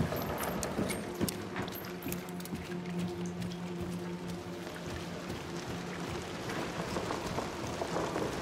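Heavy rain falls in the game Hunt: Showdown, a dense steady hiss and patter of drops continuing throughout with scattered sharper taps and no talk.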